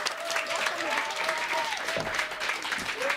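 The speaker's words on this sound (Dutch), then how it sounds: "Dus een applaus" An audience applauds steadily, a dense crackle of many hands clapping, with a brief tonal whistle-like sound drifting over the clapping.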